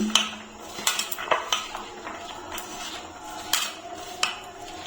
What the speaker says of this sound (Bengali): দিয়ে এটার সবাই একটু মিশিয়ে নিচ্ছি